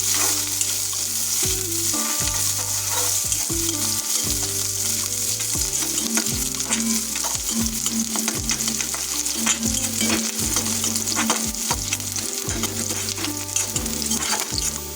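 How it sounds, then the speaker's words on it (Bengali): Chopped onions and garlic fry loudly in hot oil, a dense, continuous sizzle close to the pan with stirring scrapes throughout and a faint tonal melody running underneath. "এখন এগুলোকে মিনিট 3 ধরে ভালোভাবে ভাজা করে নেব"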